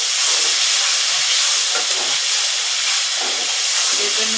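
Ginger garlic paste sizzles in hot oil in a pan while cooking a tilapia and potato curry, a loud continuous hiss with a few faint scraping stirs underneath.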